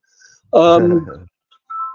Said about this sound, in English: That's my cell phone ringing.